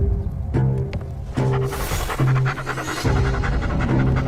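A dog panting in a dramatic scene, steady rhythmic breaths close by, layered under a low throbbing music bed with no talk.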